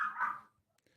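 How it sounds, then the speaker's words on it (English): One short, loud dog bark right up close, fading quickly into near silence with a couple of faint ticks afterward. "What did your dog say?"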